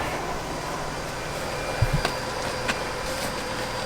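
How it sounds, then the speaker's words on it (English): A central vacuum cleaner runs with a steady, loud whooshing drone that fills the whole stretch, with a few brief clunks and knocks partway through. "That would be the central vacuum cleaner run."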